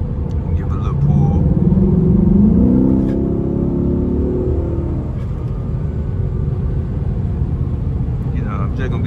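A stock Ford Mustang 5.0 V8 in sport mode pulls hard, its loud low engine note rising through the first few seconds before easing back to a steadier drone.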